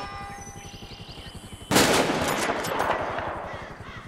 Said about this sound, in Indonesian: langsung membius hewan T-Rex itu dengan senjata bius jarak jauh